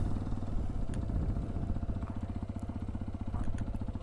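A motorcycle engine labors uphill on a one-day ride toward Ananthagiri Hills: a steady, close, throbbing chug with rapid regular pulses that holds for the whole stretch, with no talk.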